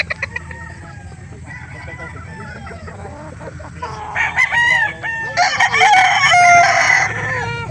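Roosters crow loudly and repeatedly while chickens cluck at a busy chicken market in Calauan, Laguna, the calls overlapping and building in intensity toward the end over a low background murmur.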